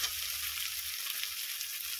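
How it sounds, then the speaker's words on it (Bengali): Chunks of green banana and potato fry in oil for a rohu fish curry, giving a soft, steady sizzle with faint crackles, fairly quiet and uninterrupted. "কাঁচকলা আলুটাকে ভালোই ভেজে নেওয়া হয়ে গেছে"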